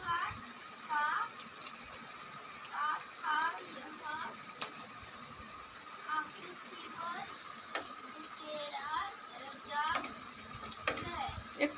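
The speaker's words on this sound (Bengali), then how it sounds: "এটা হাই ফ্লেমে ভাজা হবে।" Food frying in oil over a high gas flame, a steady hiss and crackle running throughout at moderate level, with intermittent voice-like chirps and clinks over it.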